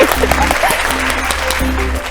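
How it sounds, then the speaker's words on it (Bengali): Applause from a studio audience on a Bengali family game show breaks out after a correct answer. It sounds as dense, fairly loud clapping for about two seconds, with some voices mixed in. "হাততালি জোরে"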